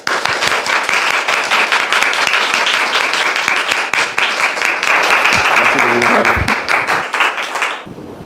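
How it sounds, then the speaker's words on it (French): A studio audience on a French-language television set gives loud, dense, sustained applause that holds steady for about seven seconds, with brief voices beneath, then cuts off abruptly. "Je voudrais que nous la recevions avec applaudissements."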